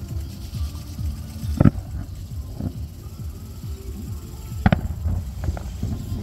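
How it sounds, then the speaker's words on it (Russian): Fireworks salute bursting over the rowing canal in Samarkand, Uzbekistan: two sharp distant booms a few seconds apart, with fainter pops between them, over a steady low outdoor rumble. "Салюты очень красивые."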